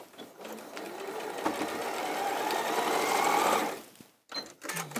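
A sewing machine runs in a steady burst as it restitches a seam about a quarter inch from the raw edge of a Moda kimono quilt block, then stops abruptly, followed by a few faint handling noises.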